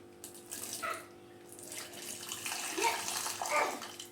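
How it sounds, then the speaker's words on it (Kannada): Water pours from a cooking pot partly covered by a plate and a cloth, splashing and trickling in uneven gushes close by, with a little faint talk behind it. "ನೀರು ಬಸ್ಕೊಳ್ಳೋಣ"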